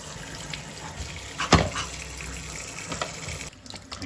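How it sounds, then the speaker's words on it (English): Hot tap water runs over a frozen ice cream container in a steady splashing rush, with a sharper knock partway through and the flow cut abruptly near the end. "put it under hot water to get it out of here"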